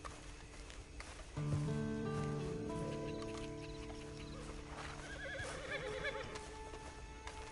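A horse neighs loudly with a long, wavering whinny, followed by softer snorts and shuffling hooves nearby.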